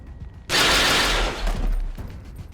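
Blaster gunfire in the video game XCOM 2, a sudden loud burst of rapid crackling shots lasting about a second and a half, then trailing rumble.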